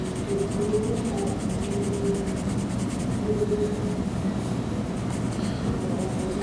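Colored pencils scratching across paper while blending a gradient, a soft continuous scraping with faint rhythmic strokes, steady and close, alone.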